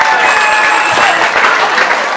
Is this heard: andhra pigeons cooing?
no